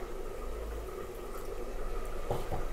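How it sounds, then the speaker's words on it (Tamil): Water rinsed from a grinder jar is poured into flour batter in a bowl for an Indian evening snack, making a soft, steady liquid trickle and splash close by with no talking. "ஜார் கழுவி வச்சுருக்குறேங்க, அந்த தண்ணி சேர்த்துக்கிறேன்."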